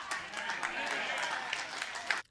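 Scattered, lackluster applause from a political rally crowd, a steady wash of clapping lasting about two seconds before cutting off abruptly.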